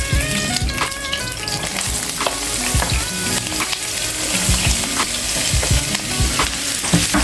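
Three medium onions frying for a seafood biryani, a loud continuous sizzle in hot oil with frequent scraping and clacking of a spatula stirring the pan, no voices.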